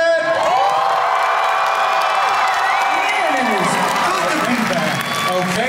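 A convention crowd at a Floor Wars dance battle roars for the dancers, with loud sustained cheering, high whoops and shouts over scattered applause throughout.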